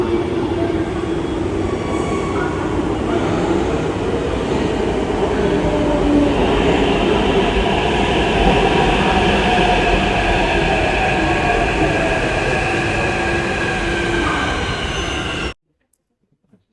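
A Hyderabad metro train at a station gives a steady, loud rolling rumble with rail hiss and faint wheel squeal, continuing for about fifteen seconds before cutting off abruptly into silence.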